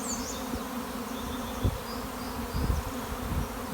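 Countless honeybees stream out of a Saskatraz hive in a swarm, making a thick continuous buzz nearby, with a few faint higher chirps in the background and no talking.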